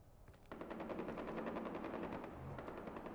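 Far Cry 4 gameplay gunfire: sustained rapid automatic fire that kicks in after a brief pause and rattles on continuously, dense and steady, with no talk over it.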